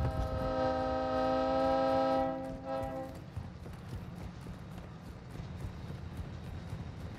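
A train in the video game Call of Duty DMZ sounds a loud, sustained horn for about two seconds, then fades into a steady rumble of rolling wheels and rail noise.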